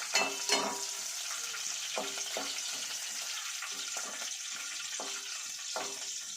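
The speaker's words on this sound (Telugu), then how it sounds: "ఇప్పుడు పచ్చిమిరపకాయలు వేగినవి" Green chillies fry in hot oil with cumin in a pan, a steady soft sizzle with occasional clinks and stirring taps, fairly faint and close.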